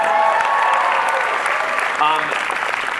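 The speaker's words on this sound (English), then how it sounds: "you can absolutely applaud for Danny if you want" Crowd at a DuckTales panel at the D23 Expo claps in a sustained burst for Danny Pudi, a dense wash of applause with voices calling out over it.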